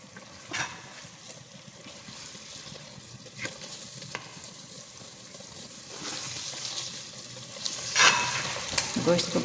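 Spinach and mutton for palak gosht sizzle and fry in a pan, with intermittent scraping stirs and soft clinks over a low continuous crackle; a voice is faintly present.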